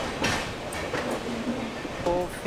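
Passenger train pulling out of Cuttack railway station toward Puri in Odisha, a steady rumbling ride with continuous wheel and carriage noise and faint clinks, heard from inside the coach with some background voices.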